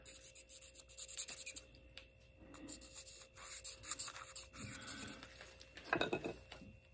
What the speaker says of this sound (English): Okay, I'm gonna pencil in everything we need to remove.